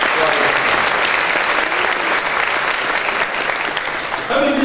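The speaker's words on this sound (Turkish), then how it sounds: "Onlar için de sizden bir alkış istiyorum." Loud, sustained applause from a crowd at a unity breakfast gathering in Çengelköy, Istanbul, heard close and continuous, with voices faintly mixed in.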